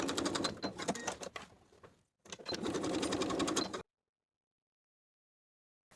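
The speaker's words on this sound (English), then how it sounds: "Baste your straps in place." Sewing machine basting the slanted, unfinished edges of jumper straps in place, two close, loud bursts of rapid stitching with a brief pause between, then silence.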